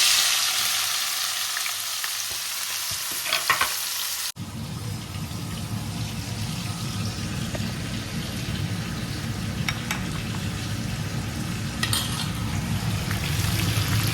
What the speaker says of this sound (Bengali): আমার তেলটা গরম হয়ে গেছে দিয়ে দেব হচ্ছে পেঁয়াজ